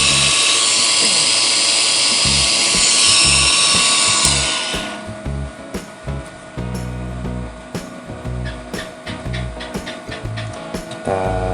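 A homemade mini drill built from an RS775 DC motor whines at a steady high pitch for several seconds, then the tone drops and the motor revs in short, repeated bursts, loud and close.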